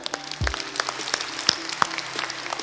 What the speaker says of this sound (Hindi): यहां चलो जोरदार तालियां हो जाए।